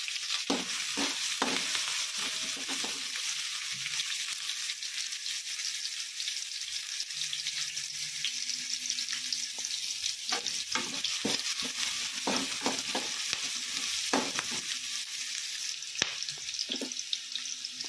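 Fennel seeds, chopped onion, green chilli and curry leaves fry in a pan with a constant close hiss, broken by frequent spoon scrapes and stirring clatter and no talk.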